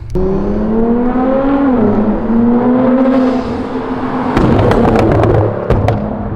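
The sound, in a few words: Nissan GTR shooting flames from flamethrower exhaust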